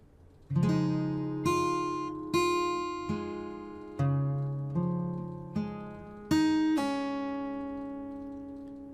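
Fingerstyle acoustic guitar picks out a bar of a piece, with about nine clear plucked notes and chords in a gentle rhythm, each one ringing and fading before the next, played close and alone with no talking.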